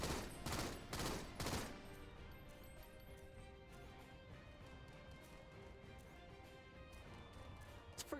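Rapid bursts of video game gunfire, several sharp loud volleys at the start that fade into quieter scattered shots and a faint rumbling background.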